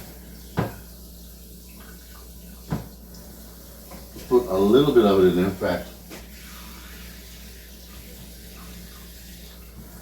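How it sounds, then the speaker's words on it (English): Tap water runs briefly into a Pyrex dish holding turkey pieces, a splashing burst lasting a second or two between a couple of sharp clunks, while a person talks over the kitchen sounds. "I'm gonna turn on some water."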